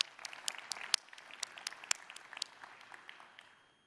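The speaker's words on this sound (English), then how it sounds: "give a hand of applause" An audience at a Xiaomi launch event for the Watch S1 Pro and Buds 4 Pro claps, scattered sharp hand claps that thin out and fade over a few seconds, with no talking.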